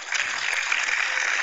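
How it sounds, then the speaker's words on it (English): Brief, steady clapping from a radio show audience, a dense even wash of hand claps lasting a moment. "No, don't applaud that bastard."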